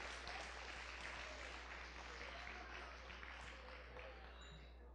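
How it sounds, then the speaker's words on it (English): Audience applause at a town 50th anniversary celebration in Yountville, honoring a man who filmed the evening by drone; steady, dense clapping throughout, fairly faint and distant over a low hum, with some voices mixed in. "What a special round of applause for John"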